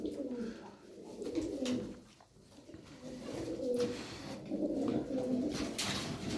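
Çorum bald tumbler pigeons coo in soft, repeated rolling phrases up close, several birds overlapping in a quiet steady murmur with no talk.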